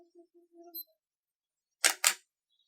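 A camera shutter fires twice in quick succession, set off by a Shutterboss II remote timer on self-timer mode, crisp and close after a few faint electronic beeps.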